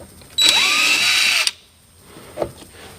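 A power drill whines loudly for about a second as it bores at low speed through the plastic front bumper of a Nissan R35 GT-R, then stops; a faint short burst follows.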